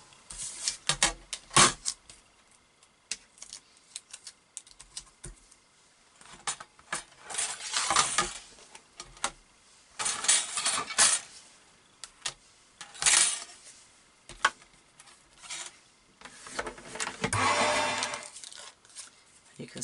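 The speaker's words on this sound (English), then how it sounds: "I'm just going to die cut that out." A die-cutting machine cutting a large scallop shape from card, heard as intermittent mechanical cranking and rattling bursts, close, with a person talking between them.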